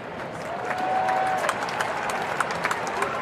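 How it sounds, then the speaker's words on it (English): A near-capacity baseball stadium crowd claps and cheers, a spread-out wash of applause from a large audience, with a faint tone and scattered sharper claps. "It's a round of applause from our near capacity crowd"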